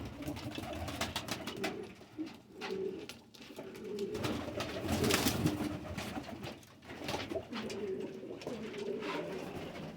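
Sialkoti breed pigeons coo in low, repeated throaty calls, their soft cooing overlapping continuously against a steady outdoor background, with no one speaking.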